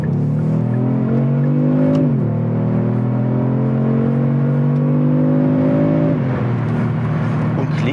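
A 2020 Kia Stinger GT with the 3.3 V6 and all-wheel drive accelerates hard, heard from inside the car, its engine note climbing steadily through two gears with a brief dip at each upshift.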